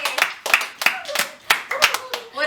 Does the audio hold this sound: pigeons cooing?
no